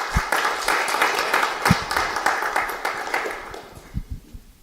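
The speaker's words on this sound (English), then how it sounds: "A big applause for Céleste." Audience applause and clapping fill the room, steady and dense, tapering off toward the end with a few scattered claps.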